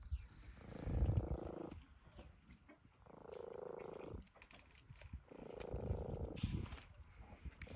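A pet cat among hens purs close up, rising and falling in three slow, rumbling swells separated by short quiet pauses.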